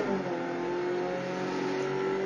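Race car engine at Barber Motorsports track holding a steady loud drone as the throttle reopens early out of a corner, a continuous close onboard roar with a strong tonal whine and no pauses.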